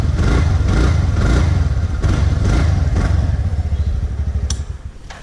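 A TVS Ntorq BS6 scooter's exhaust revs loudly and close by in a rhythmic series of throaty surges, settling back toward a rough idle at the end.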